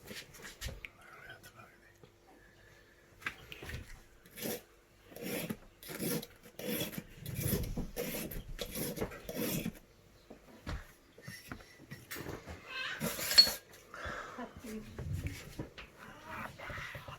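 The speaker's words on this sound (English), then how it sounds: "So you do it on coarse side first, and then do it on fine to make it really, really razor sharp" A kitchen knife is worked across the coarse and then the fine side of a whetstone, making a series of rhythmic rasping strokes, close and clear, with quiet talk between passes.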